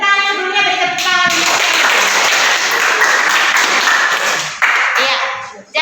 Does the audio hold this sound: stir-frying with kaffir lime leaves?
no